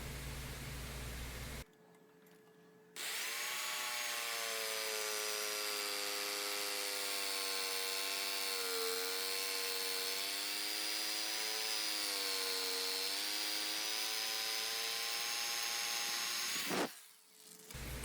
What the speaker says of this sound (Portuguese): Então eu serro aí com essa serra tico-tico, faço o corte inicial, o corte mais grosseiro inicial desse headstock, ou da mão da guitarra.